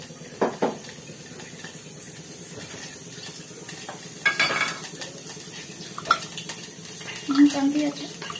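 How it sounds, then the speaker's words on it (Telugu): Oil sizzling in a pan while tempering cucumber chutney, a low constant hiss running beneath frequent clinks and clatters of utensils and stirring, with a few louder knocks. "దోసకాయ చట్నీకి తాలింపు"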